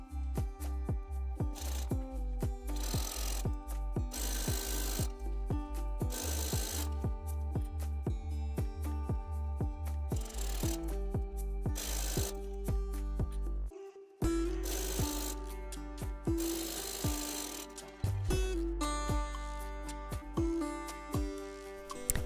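A sewing machine stitches a horizontal dividing seam across the front and back pieces of a patchwork sheath dress. Its needle beat is rapid and steady, runs in sustained bursts with a short stop midway, and sounds close.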